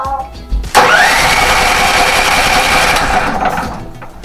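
A car engine cranks on its starter motor, powered by a used 12-volt battery. The whirring crank runs steady and loud for about two and a half seconds, then winds down.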